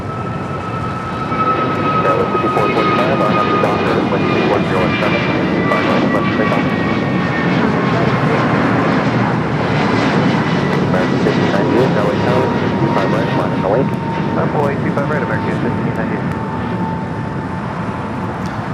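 An American Airlines jet airliner departing LAX, heard as a loud, sustained roar of engines with a falling whine, continuous for the whole stretch without a break.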